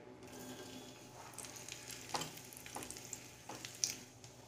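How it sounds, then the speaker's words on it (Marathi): Raisins fry briefly in ghee with a faint, steady sizzle and a few soft clicks from a stirring spoon, all quiet and without speech. "आता ह्याच तुपामध्ये मी मनुका सुद्धा थोडीशा परतून घेणार आहे"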